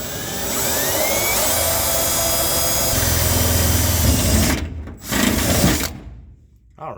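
Power drill with a step (Christmas tree) bit boring holes to mount a seat in a Vice Grip Monza project car, a steady high whine running for several seconds that cuts out and restarts in short bursts near the end.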